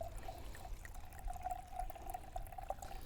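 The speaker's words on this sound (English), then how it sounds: "Why don't I be pouring some wine while I'm endlessly babbling on here?" Red Pinot Noir pours steadily into a glass in a faint, continuous trickle at close range, with no talking.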